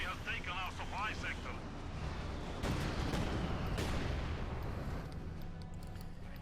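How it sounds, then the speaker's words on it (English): Mortar fire trading back and forth in the video game Company of Heroes 2, heavy booming impacts and rumbling blasts under a commentator's continuous voice. "Mortar fire going back and forth here."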